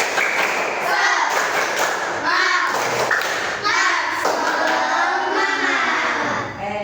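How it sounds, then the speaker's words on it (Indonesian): A fifth-grade primary school class performs a rhythmic spirit clap, repeating patterned bursts of hand claps and thumps while children's voices chant along in unison. "coba tepuk semangat"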